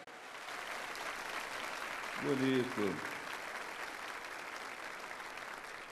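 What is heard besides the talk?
church congregation applauding Pope Francis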